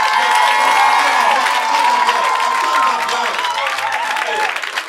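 A church congregation erupts in loud, sustained applause and cheering, with shouts and whoops over dense clapping that stays strong throughout before thinning slightly at the end.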